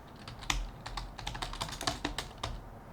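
Steady, close clatter of a computer keyboard as an address is typed, brisk uneven keystrokes over a low background hum with no talking.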